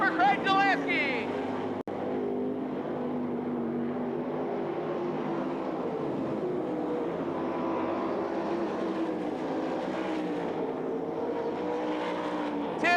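Sprint race cars roar around the track at Knoxville Raceway in 1997, a continuous loud engine drone rising and falling as they pass, under steady talk.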